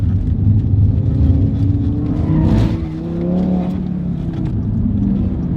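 A REVO-tuned Audi RS3 accelerates hard, its engine a loud close rumble that rises in pitch, drops briefly at a gear shift midway, then climbs again.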